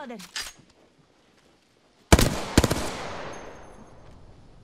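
Bursts of video game gunfire: a short volley early, then after a pause a loud rapid string of close shots with ringing decay.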